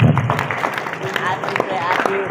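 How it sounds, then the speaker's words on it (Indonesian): An audience of middle school students at SMP Muhammadiyah 1 Kota Tegal claps for the children during a motivational talk, producing a moderate patter of scattered applause mixed with crowd noise and voices throughout. "Tepuk tangan buat anak-anak hebat."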